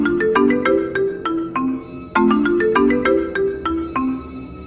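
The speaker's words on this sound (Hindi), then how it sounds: "फिर बुल्ली का फ़ोन बजने लगता है।" A cartoon phone rings in a children's animated episode, a bright repeating electronic melody of quick tonal notes in two bursts, loud and close with no voices over it.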